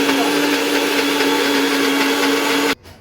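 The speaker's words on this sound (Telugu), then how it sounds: "ఇది ఇలా మిక్సీలో వేసుకుని" Mixer grinder whirs loudly and steadily as it grinds cooked ridge gourd peel and green chillies for chutney, a constant motor drone that cuts off abruptly near the end.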